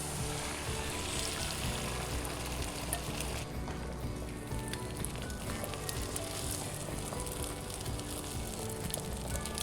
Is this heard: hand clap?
no